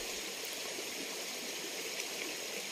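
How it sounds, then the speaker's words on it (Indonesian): The Nanasi river in Taupa Utara village flows steadily as a continuous rushing, hissing stream, fairly close and even in level, with no talking. "Kebetulan kami berada di salah satu sungai di Desa Taupa"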